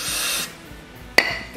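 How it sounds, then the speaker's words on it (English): Carb cleaner sprayed onto a DR leaf vacuum's carburetor: a short, close hiss of aerosol spray lasting under half a second, followed by a single sharp click. "So I'm gonna hit it with a little carb spray"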